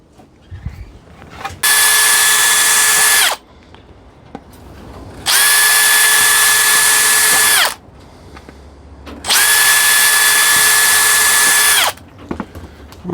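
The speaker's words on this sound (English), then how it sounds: "I've just drilled little pilot holes through to start off with." A power drill whines at high speed in three separate bursts of about two seconds each, drilling pilot holes in a Jason-style costume machete, with faint handling noises between bursts.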